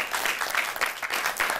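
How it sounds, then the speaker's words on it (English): Studio audience clapping at the close of a television talk show: a short burst of steady, moderately loud clapping from a small group. "Clap for yourselves."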